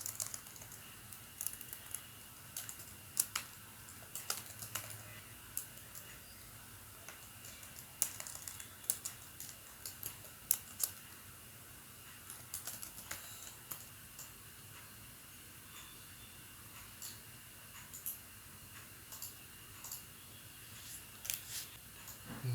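Soft, irregular clicking of keys on a computer keyboard while code is typed, a steady low hum underneath and no voices.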